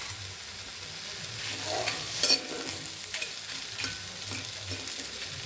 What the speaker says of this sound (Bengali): আর এই যে আমি চুলাতে শুকনো মরিচ ভাজতেছি, সাথে এই যে রসুন একসাথে ভেজে নিব।